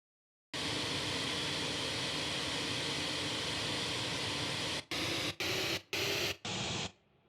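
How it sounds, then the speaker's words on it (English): Looped air conditioner recording played back on a sampler as a steady, loud broadband hiss and rumble. After a long sustained stretch it is retriggered in several short chopped bursts, then fades away. "I picked a looping sound from the air conditioner recording"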